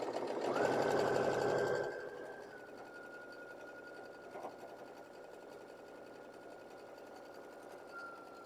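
A sewing machine stitches quilt fabric off a flying geese block in a short, loud burst lasting under two seconds, then falls quiet leaving a faint lingering tone and low background noise.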